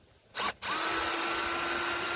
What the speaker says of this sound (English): Alright, so got the drill here